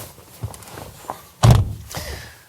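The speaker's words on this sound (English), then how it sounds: "Let's pull back the frameless door and take a look inside" A frameless door on a Mini Electric hatchback is pulled open, giving a few soft clicks before a single solid, close-up thunk of the latch and door releasing, then a lighter follow-up clunk.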